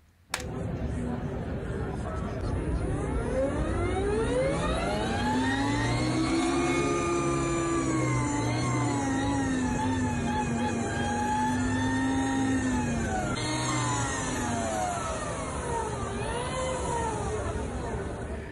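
An electric Harley-Davidson motorcycle motor whirs with a smooth rising and falling whine, climbing and dropping in pitch as it speeds up and slows, with a background hum.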